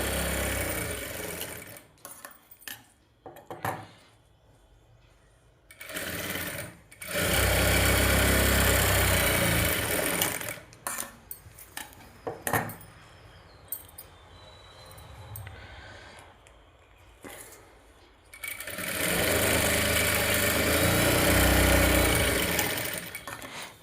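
A sewing machine joins cloth pieces for a blouse in bursts of loud stitching, with quieter gaps of handling and shuffling between runs and a long steady run near the end.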